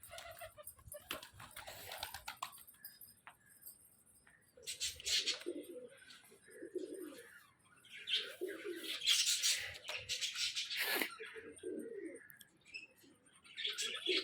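Pigeons and doves in a home colony give soft, repeated coos in low rounded phrases, with scattered chirps and rustling around them and no clear speech.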